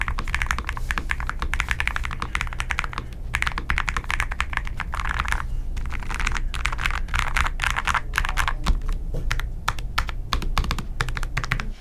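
Rapid typing on a mechanical computer keyboard fills the scene, dense clattering keystrokes close to the microphone in quick uneven bursts, with no talking.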